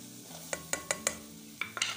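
A spatula stirs chicken frying in a pan with flour, giving a quiet run of sharp metallic scrapes and taps, about eight in quick uneven succession over a faint sizzle.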